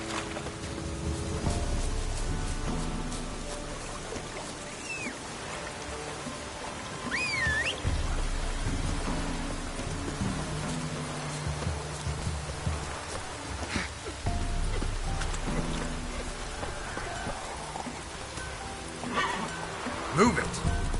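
Steady light rain patters throughout a scene in the video game The Witcher 3: Wild Hunt, a soft continuous hiss beneath game music and someone talking over it.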